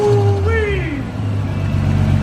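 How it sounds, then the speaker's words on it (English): A turbocharged car engine revs with a soda can blocking its blow-off valve, a loud close drone with a rising and falling whistling flutter, under a voice. "You block off your blow valve with the soda can."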